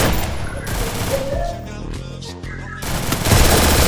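Rapid gunfire in a shooting video game while aiming for headshots, loud dense bursts of automatic shots that thin out briefly midway and then return hard, with game music beneath.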